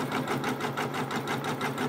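Embroidery machine stitching a quilt-in-the-hoop applique: a close, steady rapid mechanical chatter with regular pulsing beats several times per second, continuous and even in loudness.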